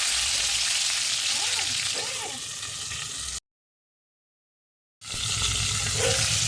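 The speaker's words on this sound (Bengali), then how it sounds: "সেই জন্য আমিও ঢাকা চাপা দিয়ে এইভাবে মাছগুলোকে ভেজে নিচ্ছি।" Tangra fish frying in hot oil under a pan cover, a steady broadband sizzle that runs continuously, then cuts out into brief silence before resuming; a voice briefly murmurs partway through.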